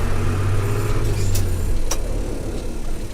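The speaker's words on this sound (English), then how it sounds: "So let's go over the speed bump here and then try and do some braking." A Valmet 505T tractor engine rumbles loud and close as it rolls over a speed bump and brakes on polished ice, its steady low drone easing slightly toward the end, with a couple of brief knocks.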